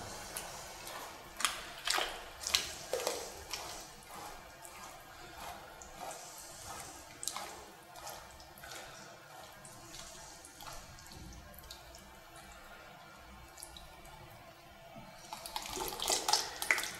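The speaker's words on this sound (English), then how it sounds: "So I'm going to soak the canvas in the plaster." Wet, sloshing splashes and drips of canvas being soaked in liquid plaster for a panel moulding, with irregular soft splatters throughout and a louder burst of dripping near the end, no talking.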